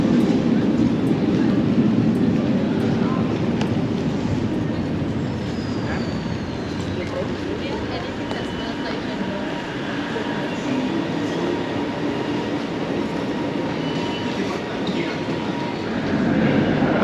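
Interior of a train heading south from KL Central, a continuous rumbling roar of wheels on rail with faint clicking and occasional high squeals, steady throughout.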